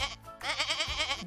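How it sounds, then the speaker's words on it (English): A goat at a zoo bleats once in a loud, wavering, quavering call, close by, with faint voices around it. "It's a goat."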